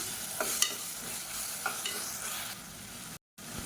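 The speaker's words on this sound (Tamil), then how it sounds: "இதையும் சேர்த்து நல்லா வதக்கிக்கலாம்" Ground garlic, ginger and shallot paste sautéing in hot oil for a radish and egg kulambu, with a soft steady sizzle broken by a few scraping stirs of a spoon, followed by a brief cut to silence.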